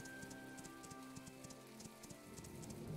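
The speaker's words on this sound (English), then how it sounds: "I suppose it is raining." Rain falls steadily in the video game My Time at Portia, a soft, even patter on surfaces heard faintly alone, with a low rhythmic footstep-like thud beneath and no talking.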